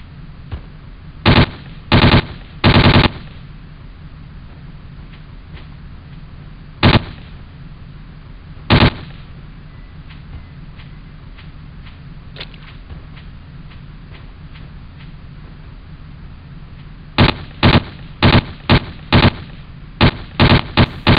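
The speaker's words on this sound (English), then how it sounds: "Hey, fantastic, a Calico machine pistol." Calico machine pistol fire in the Jurassic Park Trespasser video game, heard as sharp, clipped single shots and short clusters of bursts, sparse at first and then rapid near the end, loud against a low rumbling background.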